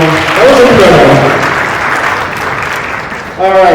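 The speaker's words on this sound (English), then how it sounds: "Another round of applause," Audience at an anniversary charity gala bursts into loud, sustained applause that swells, thins slightly, then surges again; a voice rises briefly at the start and end.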